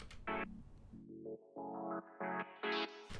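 A synth line in FL Studio runs through an automated filter that opens and then snaps back, giving a series of short, bright stepped tones that rise in pitch with brief gaps between them, alone with no voice.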